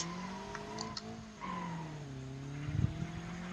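A 200-horsepower car in the BeamNG.drive video game accelerates uphill, its engine a steady tonal drone that dips, then climbs in pitch as it pulls, heard at moderate level.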